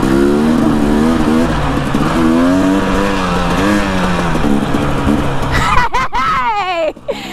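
A Honda CRF300L dirt bike is ridden off-road, its engine loud and close, revving and changing pitch continuously throughout, then dropping away abruptly near the end.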